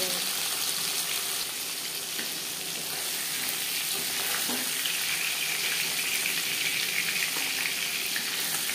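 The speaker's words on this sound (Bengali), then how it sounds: "আমি এখানে হালকা করে ভেজে নিচ্ছি।" Pieces of hilsa fish fry lightly in hot oil, a dense, even sizzle that holds steady and close throughout with no pauses.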